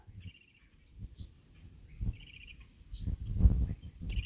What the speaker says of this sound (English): I was hearing a loggerhead shrike, according to Merlin.